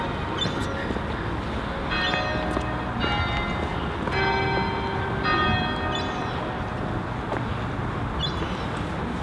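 Church bells ring out in a slow, repeating pattern of overlapping peals, heard from a moderate distance over steady wind noise.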